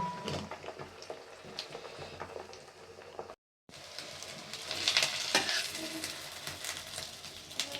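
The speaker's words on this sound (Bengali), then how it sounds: "এখানে বুনা খিচুড়ির সাথে ডিম ভাজি করতেছি" An egg frying in a pan as a side for bhuna khichuri, with a steady close sizzle and scraping stirs, briefly cut off by a short gap and then sizzling louder.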